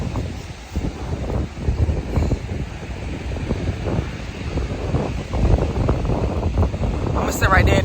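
Strong wind buffets the microphone at a beach in uneven gusts, a loud rumbling roar that swells and fades with faint surf beneath, and people talk nearby.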